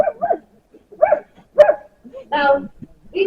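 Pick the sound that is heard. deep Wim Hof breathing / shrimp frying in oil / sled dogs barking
sled dogs barking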